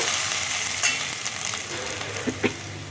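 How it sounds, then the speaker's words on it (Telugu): Ingredients for chicken dum biryani frying in a pan, a steady soft sizzle with occasional stirring scrapes and small pops, close and moderately quiet. "ఇవి మంచిగా వేగుతూ ఉన్నాయి కదా"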